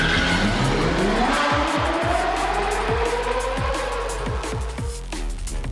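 Race cars speeding through a race, engines roaring loud and close as tires squeal and skid, with rising and falling engine pitch across the run.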